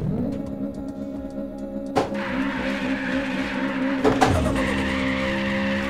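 A Toyota Trueno AE86 in a racing video game screeches its tires in long skids over a droning engine, with two sharp impacts breaking in along the way.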